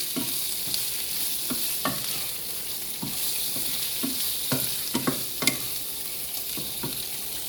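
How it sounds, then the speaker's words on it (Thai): Shrimp and garlic stir-fried in a pan: a steady, close sizzle broken by a regular series of sharp spatula scrapes and clinks against the metal, with no voices. "นีุ่มเอากุ้งลงไปแล้ว ผัดกระเทียมให้มันหอมหน่อย"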